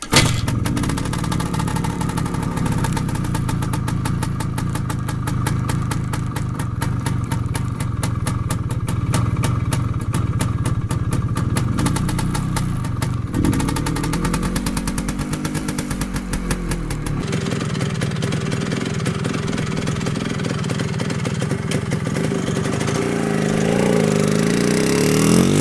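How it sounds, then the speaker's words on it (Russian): A 340 cc single-cylinder two-stroke motorcycle engine with a Mikuni carburettor runs steadily with a buzzy, rattling tone, shifting pitch partway through as the revs change. "Его одноцилиндровый двигатель рабочим объемом 340 кубических сантиметров"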